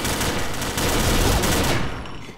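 Rapid, dense gunfire from the video game Combat Arms, a loud sustained burst of automatic shots with overlapping rattle that tails off near the end, no talking.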